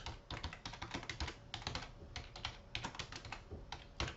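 Rapid, close computer keyboard typing entering an on-screen annotation, the keys clattering in dense uneven runs with short pauses between bursts and no talk.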